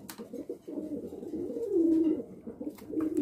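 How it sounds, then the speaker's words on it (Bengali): Almond pouter pigeons cooing in a soft, rolling series of low throaty coos, fairly close, with one drawn-out coo near the middle and faint background noise. "এখানে দেখতে পাচ্ছেন এক জোড়া অ্যালমন্ড পোটার কবুতর"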